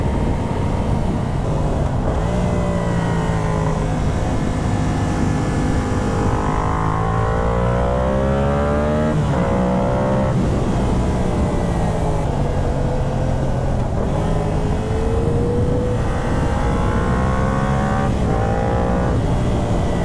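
A Yamaha R7 motorcycle engine accelerates on twisty roads, pitch climbing through the gears with brief drops at each shift, loud and close over steady wind roar and no talk.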